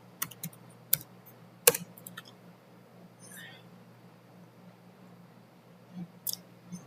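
Scattered keystrokes on a computer keyboard come in short bursts with gaps between them, close and fairly quiet, with soft whispered speech in the background.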